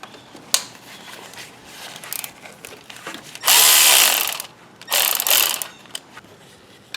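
A ratchet loosening the 10mm center bolt on a Ford Focus timing belt tensioner pulley gives two bursts of rapid, close, loud clicking, with quieter tool handling between them.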